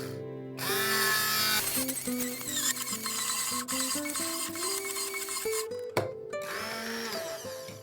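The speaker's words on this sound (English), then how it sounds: "For the sauce, blend 150 grams of fresh watermelon until smooth." A kitchen blender purees fresh watermelon for a panna cotta sauce, a loud continuous motor whine whose pitch climbs step by step as the fruit breaks down, then cuts off briefly and restarts near the end.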